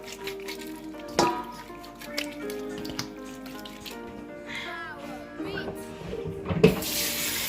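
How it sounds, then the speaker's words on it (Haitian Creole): Chicken meat is rinsed under a running kitchen tap, with water streaming and splashing in a sink, handling clatter and a few louder splashes near the end. "Là, nous voyons juste rincer viande noire. Nous lavons viande un peu l'eau"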